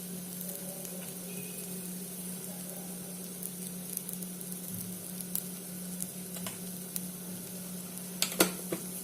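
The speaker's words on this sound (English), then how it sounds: "I'll have to just stir it for some time" Salted food being stirred in a pan while it cooks, a low steady sizzle with occasional soft scrapes and a few sharper utensil clicks, faint and close, under a constant background hum.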